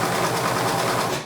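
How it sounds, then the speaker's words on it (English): A sewing machine runs steadily at speed, a continuous whirring mechanical hum with fast repetitive stitching, close and fairly loud. "pull out your sewing machine"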